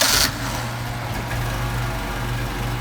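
Mercedes 190SL engine with Solex 44PHH carburetors started hot: a brief loud burst at the start, then a steady close idle with a low rumble that holds for several seconds.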